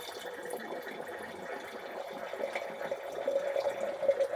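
Napa Cabernet Sauvignon red wine runs through an aerator into a glass, giving a soft, steady liquid trickle and gurgle that grows slightly louder toward the end, with no talking.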